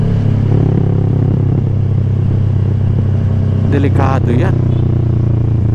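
A motorcycle rides along the very smooth road near Subic with a steady, close engine drone and road rumble. A rider's voice speaks briefly over it partway through.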